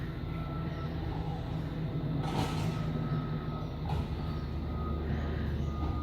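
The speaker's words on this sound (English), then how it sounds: "that noise is the garbage man in the background" A garbage truck works outside, heard from indoors as a low engine rumble with mechanical creaks, clanks and hissing bursts, distant and steady, with no voices.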